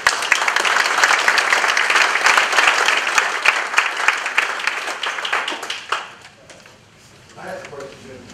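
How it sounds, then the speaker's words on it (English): A room of people at a trucking contractors' meeting breaks into loud, close applause that holds steady for several seconds, then fades out quickly as a voice starts talking. "so they deserve a hearty round of applause"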